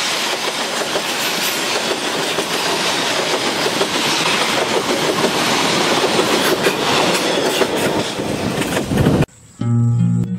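Argo Wilis passenger train running on rails, a loud, steady rumble with clickety-clack from the wheels and cars that carries through most of the stretch, then cuts off abruptly near the end.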